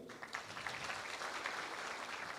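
A crowd at a Kenyan apple growers' association launch claps steadily for a couple of seconds. The applause is continuous and moderately distant, with no voices over it.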